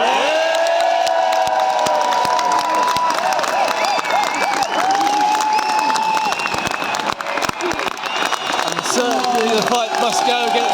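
Outdoor crowd at a farmers' protest in Whitehall, London, applauding and cheering loudly, with sustained clapping, shouts and whistles, and voices rising through the noise.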